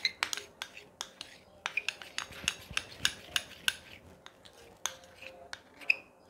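Colgate toothpaste and Vaseline are stirred together in a small container, making a run of sharp, close clinks and scrapes at an irregular pace, with faint background sound between the taps.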